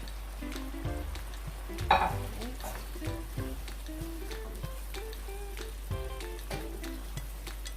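Shrimp added to a simmering Jamaican-style curry coconut sauce sizzles with a steady low bubbling and occasional spoon stirs, close and moderately quiet, with some speech and a constant low electrical hum underneath.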